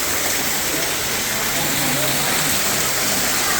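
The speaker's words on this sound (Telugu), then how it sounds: "ఇలా వర్షం పడుతూ ఉన్నప్పుడు గార్డెన్ లాగా" Artificial rain falls in an indoor garden display in Malaysia. It makes a constant, even hiss of spraying and splashing water that fills the space without pause.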